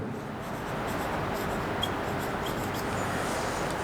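Pen on paper while an answer is written in brackets during an English class exercise, a steady close scratching and rubbing texture that continues evenly throughout, with no talk over it.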